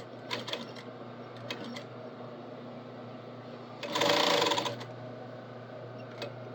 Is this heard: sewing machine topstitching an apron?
yes